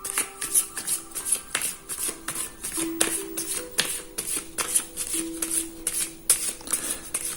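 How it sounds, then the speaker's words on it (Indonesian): Tarot cards shuffled by hand at close range, a rapid, continuous run of crisp riffling and slapping bursts repeating steadily with no talk. "Kita kocok dan kita keluarkan 5 kartu seperti biasa."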